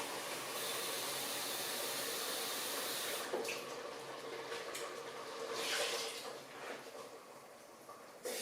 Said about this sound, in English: So I'm going to add a couple of cups of water.